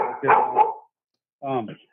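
Dogs bark in a home during a phone call: a quick burst of barks, a short pause, then one more bark, all close and fairly loud.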